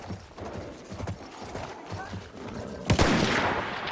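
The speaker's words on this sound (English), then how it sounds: "I'm on a horse, y'all." Horse hooves pound in a fast gallop in the Battlefield 1 multiplayer game, with rhythmic thuds under loud battle noise and a sharp gunshot burst near the end.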